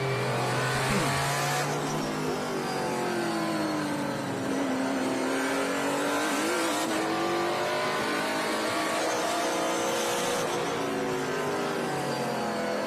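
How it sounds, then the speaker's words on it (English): Onboard race car engine at full revs during a Trans Am/GT feature race at Mid-Ohio, a loud continuous howl rising and falling through gear changes, with brief lifts and tire noise, no talking. "It's nice to just listen to them for a second and get a sense of the revs and how they go about their business."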